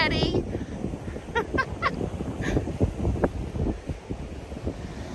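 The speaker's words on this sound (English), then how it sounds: "I know it's really windy" Strong wind buffeting the microphone outdoors at Acadia National Park, loud irregular low rumbling gusts throughout, with a few faint honk-like calls and voices in the background.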